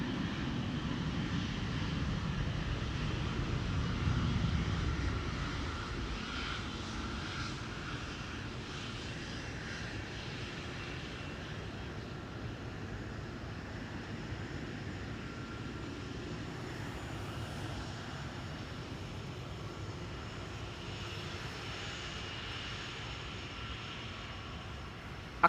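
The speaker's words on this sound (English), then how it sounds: "The KLM 777 lining up with haste." Jet engine roar of a KLM Boeing 777 lining up on the runway at Amsterdam Schiphol, a steady broad rumble heard at a distance, slightly louder at first and then holding level throughout.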